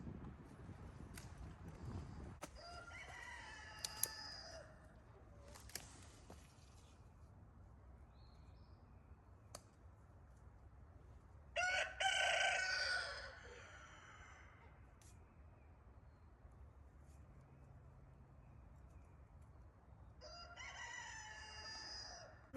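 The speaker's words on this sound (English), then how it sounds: "Come on, give us a crow." A rooster crows on a farm property among trees, a single long call standing out mid-clip over quiet outdoor background, with a few softer fowl sounds before and after.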